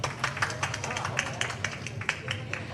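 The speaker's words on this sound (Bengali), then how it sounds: "আমাদের এই ওয়ান্ডারফুল কাস্টের জন্য একটা জোরে হাততালি হয়ে যাক প্লিজ" Scattered, crisp hand claps from an audience at a film cast event in Bangladesh, rising over a steady murmur of crowd noise and some voices for a few seconds.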